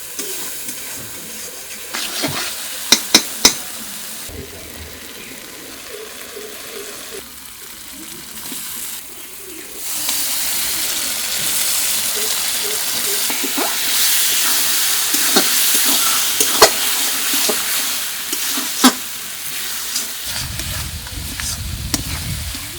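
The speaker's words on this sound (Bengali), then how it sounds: "মাংস সুন্দর করে কষানো হয়ে গেছে" Chicken pieces sauté in a pan with spices, green and dried chillies, ginger, garlic, turmeric and salt for a village-style red curry. A soft sizzle under scattered spoon clanks grows into a louder, steadier frying hiss midway.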